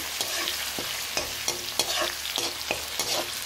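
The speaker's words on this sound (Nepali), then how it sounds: "अलिकति गोल्डन ब्राउन हुन्जेल अलिकति रातो हुन्जेल चाहिँ म यसलाई मजाले भुट्छु।" Onions sizzle in a hot pan while a utensil scrapes and stirs in regular strokes, a steady frying hiss underneath.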